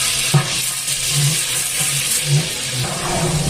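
Whole spices including cinnamon, cloves, bay leaf and fennel frying in hot ghee and oil for vegetable biryani, a close, steady hiss and crackle with a few soft stirring bumps.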